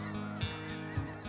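Snow geese honk twice in quick succession during a hunt, fairly close, with no voices.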